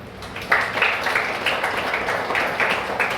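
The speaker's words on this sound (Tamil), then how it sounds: "இந்த கதை பிடிச்சா கைதட்டுங்க." A small classroom audience at a soft-skills training session claps in a brief, uneven burst of hand claps lasting a few seconds, close and moderately loud.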